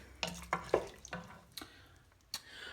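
Spoon stirring vegan corn chowder in a pot, a few soft wet clinks and sloshes spaced irregularly, quiet and close.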